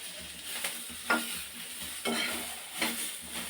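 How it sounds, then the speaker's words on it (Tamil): Onions sautéing in a pan for a spicy chutney give a soft, continuous sizzle broken by several spatula scrapes and stirs at irregular intervals, close and with no one talking. "வெங்காயம் வதங்கணும்"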